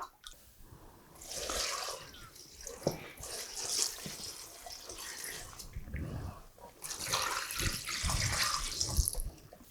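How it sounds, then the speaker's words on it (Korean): Seasoned sauce is poured over seaweed (miyeok) in a home kitchen, giving a soft, uneven liquid splashing and trickling that swells and fades for several seconds. No one speaks. "이렇게 해서 소스를 이제 부어주면 돼요"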